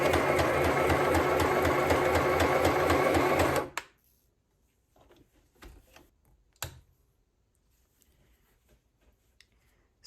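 A Stoigeld SM-725 beginner sewing machine stitches at a steady, rapid rhythm for nearly four seconds, then stops, leaving near silence with a few soft handling clicks.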